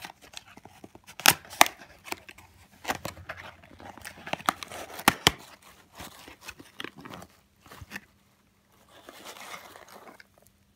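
A subscription box package being cut open by hand, with scattered close snips, crunches and crinkling of cardboard and wrapping in irregular bursts, then a short quiet gap near the end.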